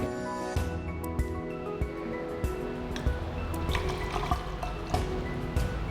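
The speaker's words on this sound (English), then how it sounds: "Now, we transfer this 100 milliliters into this 1000 milliliter cylinder." Water is poured from a 100 millilitre measuring cylinder into a larger 1000 millilitre cylinder, making a steady, close liquid splashing with scattered drips over about six seconds. No one speaks.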